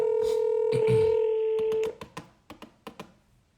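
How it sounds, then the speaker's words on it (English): A telephone dials out to place a call: a steady tone holds for almost two seconds, then a quick run of separate keypad beeps follows, close and clear, with no talking. "I'm gonna call back, but I'm gonna use a different phone number and see if she responds to that"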